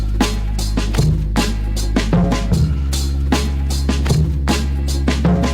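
A looped drum break run through analog clipping and an LA-style compressor plays steadily on its own, with punchy kicks and bright snares repeating in a tight groove under a sustained low bass tone.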